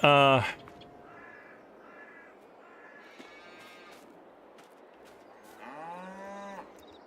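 Holstein cows moo in the farming game Farming Simulator 22: a loud low moo opens, then faint repeated cawing and chirping bird calls sit over a steady hiss, and a second drawn-out moo rises near the end.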